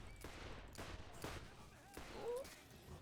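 Gunshots in the Borderlands video game, a few spaced sharp shots under a player's talking, moderately loud against background game sounds.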